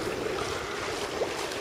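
Wind and water rush steadily around a sailing boat under genoa and reefed mainsail in a moderate breeze, a continuous broad wash with a slight swell near the end.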